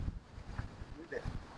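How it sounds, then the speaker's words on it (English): Gusty wind buffets the microphone in low, uneven rumbles, with a faint bit of other noise in the background. "It's pretty windy."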